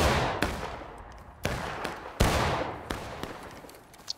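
Soldiers in a video game fire rifles at the enemy line, sharp shots cracking out one at a time every second or so, each leaving a long echoing tail over a low rumble.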